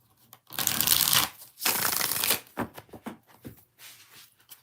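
Tarot cards being shuffled by hand, heard close and crisp as two long riffling bursts, then a few shorter taps and slides of the deck.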